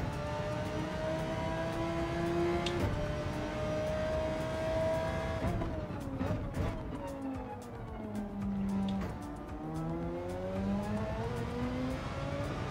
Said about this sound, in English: I do love how the car actually sounds.